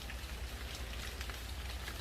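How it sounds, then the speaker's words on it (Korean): Steady rain falls on a vineyard during grape thinning, a dense, even patter of drops across the whole stretch with no voices. "오늘도 또 비가 이렇게 오고 있습니다"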